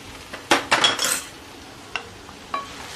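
Dry ground masala is stirred into a bitter gourd and onion curry in a pan: a quick cluster of metallic scrapes and clinks from the spoon, then two isolated light taps, with no talk.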